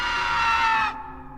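A terrifying, high shrieking scream from a spirit in a horror story sound effect, loud and sustained for about a second before cutting off abruptly into a low, quiet rumble.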